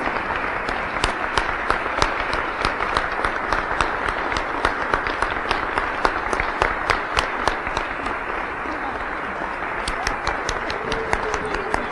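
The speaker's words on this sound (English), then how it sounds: "give one huge round of applause, standing ovation for all of our honorees this evening and our distinguished guests" A large audience gives a standing ovation to honorees at an LGBT heritage celebration, with sustained, even clapping from many people throughout and sharp individual claps standing out within the dense wash.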